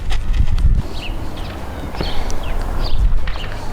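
A nervous horse shifts during groundwork training in an arena. Its hooves make heavy thuds and shuffling clops up close, with faint bird chirps in the background.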